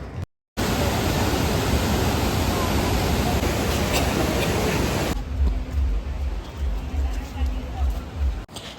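Athirappilly waterfall roars as a steady broadband rush of falling water, loud and continuous throughout with no pauses, briefly interrupted only by a short dropout near the start and a shift in tone partway through.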